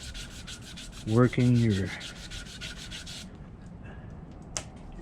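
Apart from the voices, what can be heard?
sandpaper sanding a wooden knife handle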